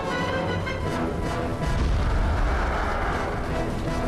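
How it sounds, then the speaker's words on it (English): A bomb blowing up in the video game Majin: Forsaken Kingdom, a loud, sustained roaring blast with heavy low rumble that swells partway through and carries on without pause. "That's about to blow."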